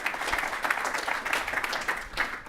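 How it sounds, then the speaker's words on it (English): A conference audience applauds steadily after a talk, a dense wash of many hands clapping at once, sustained throughout without pause. "Another round of applause, please, for Jacob."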